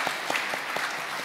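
Applause from a church congregation during a Sunday worship service, a steady wash of many hands clapping together for about a second with a few sharper claps standing out, no voices over it.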